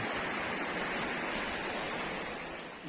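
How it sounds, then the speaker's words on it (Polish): A swelling mountain river beside a hiking trail pours with a dense, unbroken roar of flowing water, loud and near, easing slightly toward the end. "Coraz większa rzeka."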